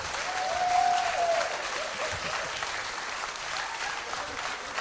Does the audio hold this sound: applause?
yes